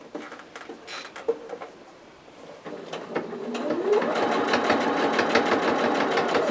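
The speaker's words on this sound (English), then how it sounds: "I'll stop sewing again when I get to that seam." A sewing machine stitches a tote bag seam in short, quiet bursts at first, then runs in a steady, louder rapid patter as it sews a longer stretch.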